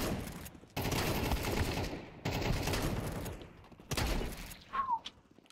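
Nova shotgun blasts in Counter-Strike 2, several loud, heavy booms spaced a second or two apart, each trailing off into a short decay, with a few thumps between them.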